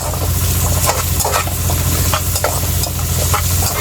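Ginger and other aromatics sautéing in a pan for taro-leaf laing, a steady close sizzle and fry with occasional stirring scrapes throughout, no voices.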